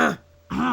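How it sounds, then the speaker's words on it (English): A man clearing his throat with a brief rough guttural rasp, heard close between stretches of his own talking. "Sorry, I had to clear my throat."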